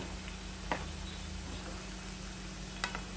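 Steady sizzling of mutton pieces frying in a pan for pachadi, a constant close hiss with a couple of faint sharp pops.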